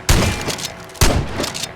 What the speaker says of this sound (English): Here's our shell to fire